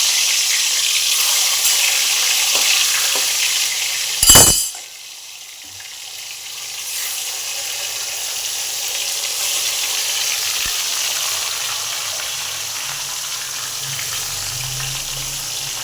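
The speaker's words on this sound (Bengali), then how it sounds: "আমার কড়াই গরম হয়ে গেছে, তাতে মাছগুলো ছেড়ে দেবো" Fish pieces frying in hot oil in a wok make a continuous sizzle, broken by one sharp loud burst near the middle before the frying settles into a quieter hiss, with no speech.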